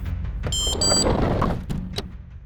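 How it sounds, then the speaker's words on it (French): A short electronic beep of several high tones, then a dull thud like a door shutting, followed by quieter knocks in a still room. "La porte se referme d'un coup sec avec un petit bip."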